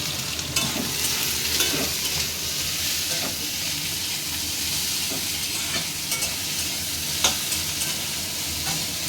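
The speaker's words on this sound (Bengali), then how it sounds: "আলুটা আমি লাল লাল করে ভেজে নেবো।" Potatoes fry in a pan with a little ghee, a steady close sizzle with occasional sharp scrapes and taps of a spatula stirring them, and no one speaking.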